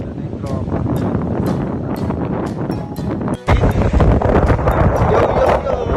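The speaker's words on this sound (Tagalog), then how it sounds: "Ang hangin dito sa taas." Wind buffets the microphone on top of a hill, loud rumbling gusts that swell and drop, with people talking and calling out over it.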